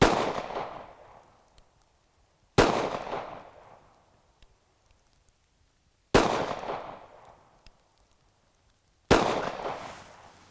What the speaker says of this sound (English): So, we're gonna shoot this thing and see what I think.